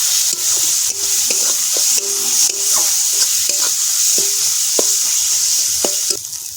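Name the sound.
stir-frying spices in oil for fish curry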